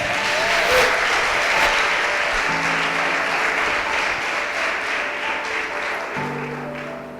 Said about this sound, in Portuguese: Dê uma salva de palmas aí bem forte